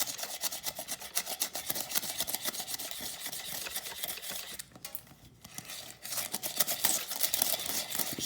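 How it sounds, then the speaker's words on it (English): A ramen noodle packet scrubs a burnt pot in a continuous harsh rasping rub, close and steady, with a brief pause midway before the scrubbing resumes. "just keep on scrubbing this for about a minute or so to get it off"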